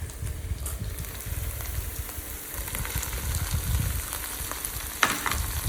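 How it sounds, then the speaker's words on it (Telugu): Boiled mutton pieces frying with masala in a pan for mutton fry, a continuous low crackling sizzle with occasional stirring scrapes and one sharper clank near the end. "సో ఇప్పుడు దీంట్లో మనం ఉడకబెట్టుకున్న మటన్ని యాడ్ చేసుకుందాం."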